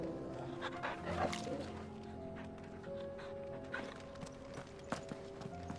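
Torgal, the dog companion in Final Fantasy XVI, barks a few times in-game over steady background music and clopping hoof-like steps, at moderate volume.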